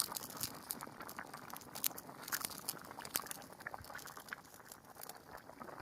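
Meat, pumpkin and potato curry boils in a full kadhai, with a steady, close bubbling and popping crackle and irregular small spits and plops throughout, and no talking.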